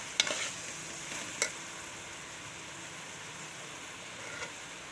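Spiced okra (bhindi) fry with garam masala and red chilli stirred in a pan: faint, soft scraping and a few light clicks over a quiet, steady hiss.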